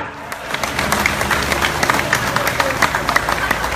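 An audience at a political speech claps, with dense rapid applause building quickly and holding steady at close range under a murmur of crowd noise.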